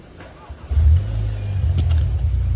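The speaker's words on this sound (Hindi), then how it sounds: "तो अगर मैं आपको एग्जॉस्ट साउंड भी सुनाऊँ तो एग्जॉस्ट साउंड भाई ये रही अपनी" A Skoda Octavia vRS 245 with a straight-pipe exhaust starts up with a sudden low growl, then settles into a steady, deep rumbling idle at moderate loudness.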